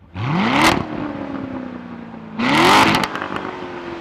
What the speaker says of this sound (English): Notice the exhaust. This is the loudest, lowest restriction exhaust mode there is.